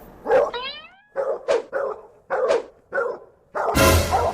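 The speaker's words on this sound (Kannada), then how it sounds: "ಅಯ್ಯಯ್ಯೋ ಇದೇನಪ್ಪ ಇದು, ನಾಯಿಗಳು ಹಿಂಗ್ ಬೊಗಳ್ತಾ ಇದಾವೆ" Several sharp, loud dog barks in quick succession from a cartoon village scene, one rising into a whining yelp, ending in a burst of harsh noise.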